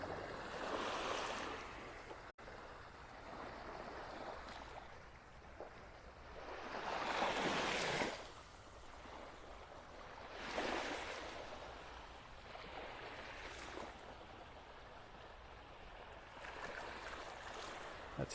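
Surf breaking on Vanderbilt Beach in North Naples, Florida, with several broad swells of wash rising and fading in slow succession over a steady background hiss, with no voices.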